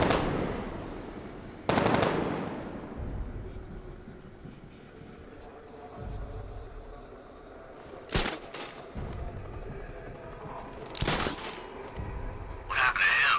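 Gunfire bursts in the video game Batman: Arkham Knight, with sharp loud shots near 2, 8 and 11 seconds between quieter rumbling ambience and faint engine-like drone.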